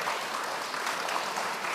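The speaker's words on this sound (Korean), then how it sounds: "박수 부탁드립니다." An audience at a Buddhist culture debate contest applauds a competing team, dense continuous clapping throughout at a steady level with no voices.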